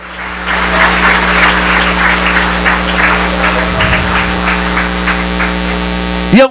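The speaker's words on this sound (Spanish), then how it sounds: "Dale un aplauso al Señor." A church congregation claps together in a sustained wash of applause over a constant electrical hum, ending with a brief louder burst.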